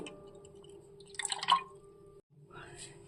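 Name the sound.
adding water to cornflour batter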